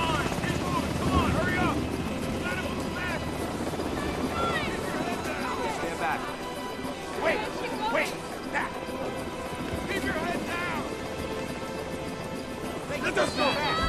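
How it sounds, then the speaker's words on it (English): Helicopter gunship arriving in a war scene from the 2003 film Tears of the Sun, its rotor thrum running steadily under urgent shouting voices, hoofbeats and commotion, never heard alone. "It's a gunship! It's here to protect us!"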